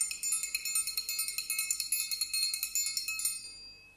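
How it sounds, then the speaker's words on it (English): A small metal triangle is struck in a quick, even roll of bright ringing hits, close and clear, with the shimmer fading out at the end. "That's the triangle."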